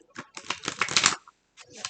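Tarot cards being shuffled by hand, a run of close, crisp riffling flutters lasting about a second, then a short pause and a softer burst of card noise.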